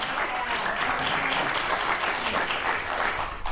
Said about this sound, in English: Tepid applause for the oatmeal cream pie.